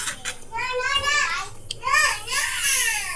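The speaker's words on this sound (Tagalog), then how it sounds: "ang ingay na naman mga bata" Noisy children play and chatter in the background, their high, overlapping voices rising and falling over a kitchen where coconut-milk squash stew is being cooked.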